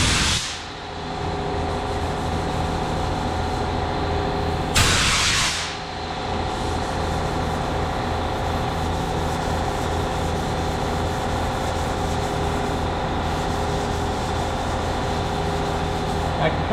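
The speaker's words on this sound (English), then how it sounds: "I can kind of feel the sandpaper starting to give way a little bit." Hand sanding with Eagle Abrasives automotive sandpaper: a close, steady back-and-forth rasping scrub that runs almost without a break, with one brief louder scuff partway through.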